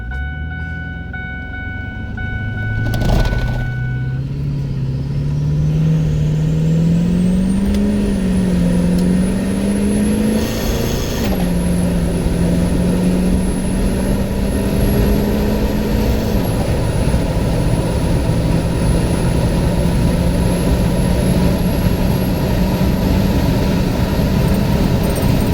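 Ford 6.4 Powerstroke diesel pickup pulling under load up a hill, a steady droning engine hum rising in pitch as it accelerates, with a high whine climbing above it.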